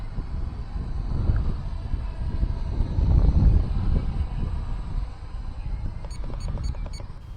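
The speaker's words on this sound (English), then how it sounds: "It was quite windy, 8 to 10 miles per hour" Heavy wind of 8 to 10 mph buffets the microphone during a camera drone flight in low, rumbling gusts that swell and ease, with a faint high whine running through it.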